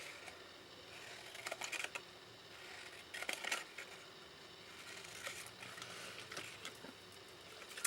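Scissors snipping through patterned craft paper while trimming pieces for a small star-topped favour box sized for a Ferrero chocolate, short crisp cuts in irregular bursts, close and fairly quiet with no talking.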